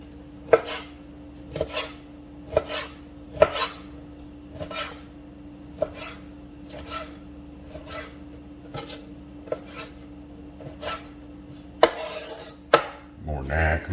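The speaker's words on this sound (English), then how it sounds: "Gotta have some bacon cut up now." A knife chops bacon on a cutting board in a kitchen, giving a steady series of sharp, close taps about once a second, with a constant low hum underneath.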